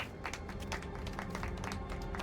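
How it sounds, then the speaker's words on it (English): A crowd applauds in the Hellmart game, a steady mid-level clatter of many hands clapping at once without any talking. "are they applauding me?"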